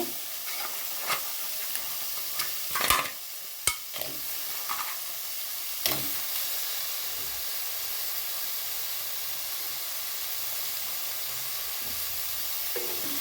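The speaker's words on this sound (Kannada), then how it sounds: "ಟೊಮೆಟೊ ಇಷ್ಟಾದಮೇಲೆ ಈಗ ಏಡಿ ಹಾಕ್ತಾ ಇದ್ದೇನೆ." Crab pieces land in a pan of cooked tomato and set off a steady, close sizzle and hiss, punctuated by a few sharp clatters and scrapes of stirring early on.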